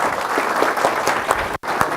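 An audience at a city council meeting gives steady applause for young boxer Mr. Cruz, with continuous clapping that fills the room and a brief cut near the end.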